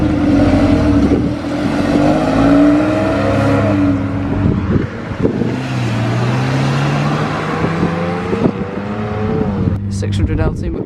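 Lotus Europa in gold leaf Team Lotus livery pulling away from a car meet, its engine note rising and changing pitch as it drives off, with crowd chatter and other idling cars around it.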